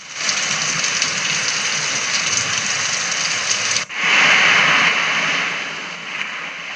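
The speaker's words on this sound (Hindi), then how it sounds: "बारिश के पानी की आवाज़" Rainwater falls as a steady, dense hiss that breaks off sharply for a moment and then resumes a little louder before easing back.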